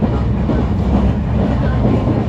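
Mandovi Express train in motion, a loud, steady rumble of wheels and carriages rolling along the rails with a continuous clattering texture throughout.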